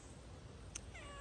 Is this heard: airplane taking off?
no